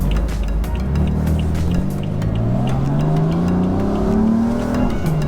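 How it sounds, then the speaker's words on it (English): Cars drive past with a steady engine roar and rising, shifting pitch, loud and continuous with no talking. "Got some cars coming."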